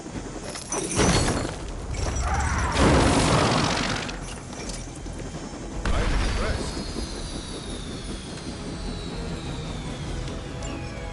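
A helicopter brought down in the Midnight Suns video game on PS5, heard as a loud crashing burst of engine roar and shattering debris that swells and fades, with a second impact, under a brief spoken line.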